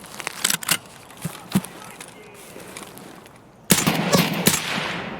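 Gunfire in Escape from Tarkov: scattered sharp shots early on, then a loud, dense burst of rapid fire near the end, close and harsh over background noise.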